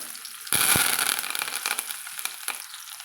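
Curry leaves and onions frying in a pan of hot oil, a loud sudden sizzle bursting in and then crackling steadily with irregular spits, no voices.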